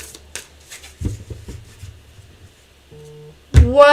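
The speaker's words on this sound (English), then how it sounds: "I've just spent all that time shuffling that deck" A deck of cards is shuffled up close in a few quick riffling bursts, followed by a brief tonal hum, then a loud burst of voice at the end.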